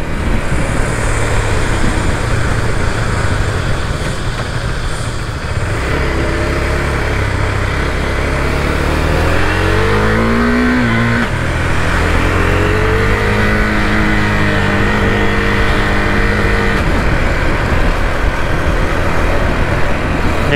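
A 2020 Husqvarna Vitpilen 401 motorcycle accelerating through the gears with its quick shifter, the engine rising in pitch and stepping with each quick gear change, loud and steady under heavy wind rush.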